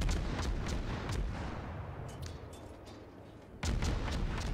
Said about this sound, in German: Auf die schießt er jetzt nochmal.